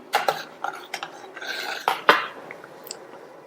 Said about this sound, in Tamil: இப்ப இத நல்லா கலந்து விட்டு 1 நிமிஷத்துக்கு சிம்ல கொதிச்சிட்டு இருக்கட்டும்.